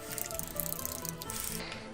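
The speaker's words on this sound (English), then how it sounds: "I've got a thermos flask with just recently boiled water" Freshly boiled hot water is poured from a thermos flask into a cup of coffee: a steady, quiet trickling stream with small dripping splashes for about two seconds, close by and with no talking.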